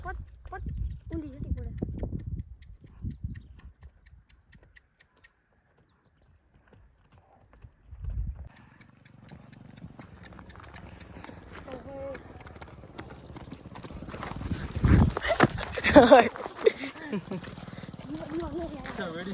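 Hooves of a Kathiyawadi mare clip-clopping in an uneven rhythm as she jumps, with people talking over them at moderate volume and a brief quiet stretch early on.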